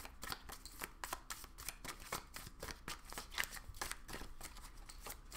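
Tarot cards riffled and shuffled from a deck, a close, steady run of crisp papery flicks and snaps with no voice over them.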